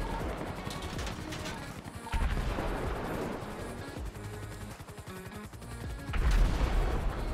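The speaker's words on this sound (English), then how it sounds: "they're trying to RPG me. See the RPGs." Rapid gunfire and rocket blasts in a GTA 5 roleplay shootout, a dense rattle of shots with heavier booms partway through and again near the end, moderately loud and continuous.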